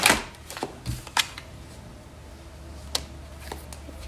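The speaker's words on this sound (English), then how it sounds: "I shuffle the cards one last time to see." Tarot cards being shuffled by hand, a few soft quiet riffles and taps spread over several seconds in a hushed room.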